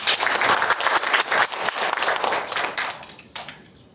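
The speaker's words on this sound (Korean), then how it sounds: "여러분의 힘찬 박수로 시작하겠습니다" An audience at an academic symposium applauds with steady, dense clapping that holds strong and then tapers off near the end.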